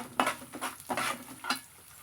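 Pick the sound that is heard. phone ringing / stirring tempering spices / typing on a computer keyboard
stirring tempering spices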